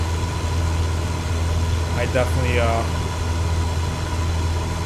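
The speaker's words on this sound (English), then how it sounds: "I just adjusted just to kind of listen to the engine." In Microsoft Flight Simulator 2024, an aircraft engine hums in cruise during a climb to about 10,000 feet, a steady droning tone that runs throughout while someone briefly speaks over it.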